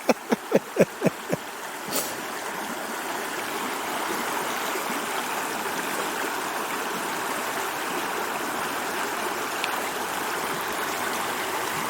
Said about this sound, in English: it's more of a creek